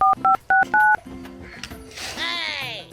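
Four quick telephone keypad tones beep in a steady run, then voices talk in a comic phone-prank scene.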